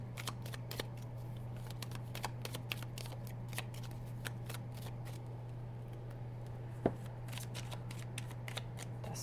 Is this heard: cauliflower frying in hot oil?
no